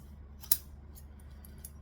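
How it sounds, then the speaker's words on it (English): Scissors make one crisp snip, then a few fainter ones, while trimming fabric edges for a sewing project, over a quiet room hum. "So we just grab some scissors and then trim it down."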